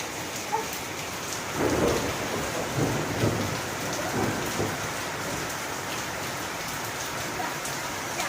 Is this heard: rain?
yes